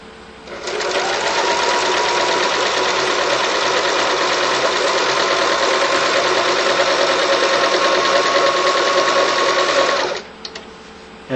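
A sewing machine runs a long continuous stitch down the inside fold of a folded hem, a loud, even, rapid mechanical whir that starts, holds for about nine seconds, then stops.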